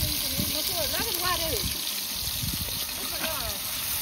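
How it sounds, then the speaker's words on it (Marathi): Cooking oil poured straight from a kettle into a big pot of mutton, cooked outdoors for a village temple fair: a soft liquid trickle beneath people talking close by and a steady background hum. "मित्रांनो आपलं डायरेक्ट केटलीनेच तेल टाकले या."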